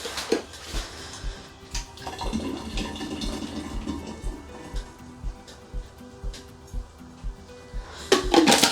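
Liquid is poured into a vessel of homemade vampire blood cider to wash the remaining sugar in, with light clinks and clatter of a container, all fairly close and without talk.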